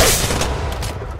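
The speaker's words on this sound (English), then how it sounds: "Opening fire." Rapid automatic gunfire from Apex Legends Mobile, a dense continuous burst of shots lasting about a second, loud and close, with no talk over it.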